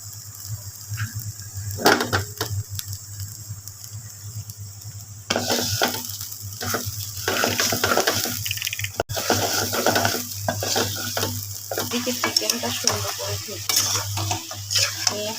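Chicken pieces with spices stirred and fried in a pan, a constant sizzle under repeated scraping and clinking of a spatula against the metal, loud and close, running for about fifteen seconds with no speech.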